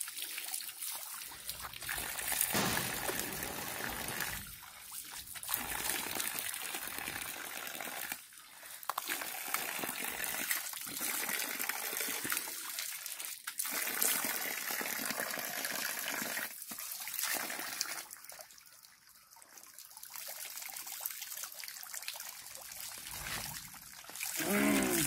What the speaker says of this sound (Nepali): यसरी पानी झाप्प चिसो पानी पहाडको खोजबाट झरेको पानी